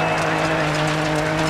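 A Ford Fiesta R2 rally car accelerating hard in a racing video game, its engine droning loudly and steadily with a constant tonal whine throughout the short burst.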